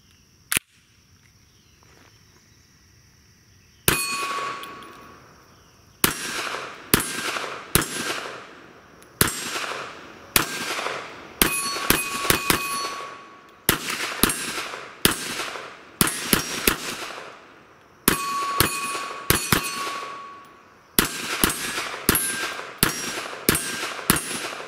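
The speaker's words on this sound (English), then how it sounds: "Here's my buddy's brand new PMR30 from Keltec. Very first shots." A brand new Keltec PMR30 pistol fires 22 Magnum rounds outdoors, sharp loud cracks in rapid strings and doubles with short pauses, each shot ringing off, about thirty shots in all.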